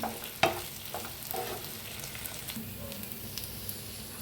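Masala okra (bhindi) fries in a pan under a steady low sizzle, with a sharp utensil knock near the start and soft stirring scrapes throughout, heard close with no one speaking.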